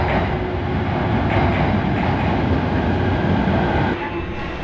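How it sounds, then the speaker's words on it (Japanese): A Ueno-Tokyo Line train rolls loudly into a station platform with a dense, continuous rumble and wheel noise that fills the whole stretch, easing off slightly near the end. "ホームには、上野東京ラインの折り返しの電車が入線してきました。"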